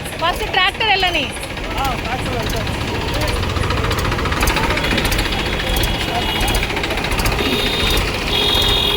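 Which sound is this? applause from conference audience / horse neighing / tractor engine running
tractor engine running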